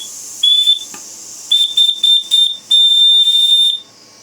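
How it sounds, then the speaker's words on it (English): A steam whistle on a PM Research model steam plant gives a short toot, then a string of brief choppy bursts, then one longer sustained shrill blast. It is close and loud, with no talk over it. "this steam whistle kind of sucks"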